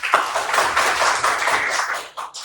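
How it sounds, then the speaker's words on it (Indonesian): Audience applause in a school classroom, a dense burst of many hands clapping close by, fading out after about two seconds. "beri aplaus dulu untuk Putri."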